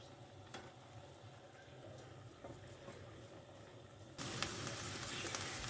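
Cubed beef cooking in a hot pan in its own released juices for Niğde tava, a steady close sizzle with occasional stirring scrapes, growing louder and brighter near the end.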